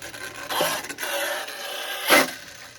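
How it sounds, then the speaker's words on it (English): The body of a HoBao VT RC car scrapes against something at the back, heard as close rough rubbing bursts and ending in one louder scrape. "the body is scraping on the backside"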